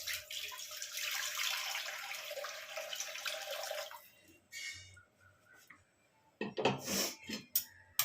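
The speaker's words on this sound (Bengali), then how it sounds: "এতে একটু গরম জল করে ছেড়ে দেবো।" Hot water pours steadily into a cooking pot of kabuli chana for about four seconds, a rushing splash, followed by a few quiet clinks and knocks of the pot.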